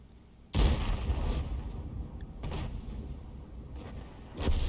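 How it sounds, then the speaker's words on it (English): In the World of Tanks video game, an artillery shell strikes with a sudden heavy boom that trails into a rumbling decay. A second, softer burst follows near the end. "There's the Arty shot coming in."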